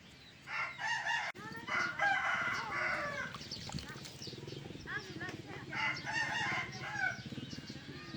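A fighting rooster crows and clucks repeatedly up close, its calls mixed with fowl noises and a person talking throughout.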